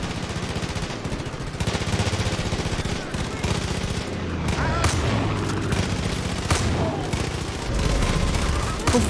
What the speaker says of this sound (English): What the fuck y'all shooting at?